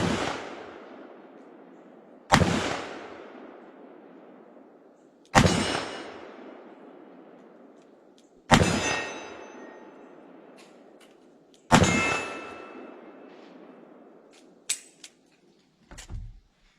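Five heavy booming shots from a Smith & Wesson 329PD lightweight .44 Magnum revolver, spaced about three seconds apart, each loud crack ringing out with a long decaying echo, followed by faint clicks and handling noise.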